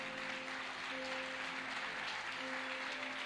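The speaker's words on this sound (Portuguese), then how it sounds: "foi muito sem graça esse aplauso" Scattered, half-hearted applause from a church congregation at an evening worship service, a steady broadband clatter of hands lasting a few seconds under a faint sustained tone, with no talking.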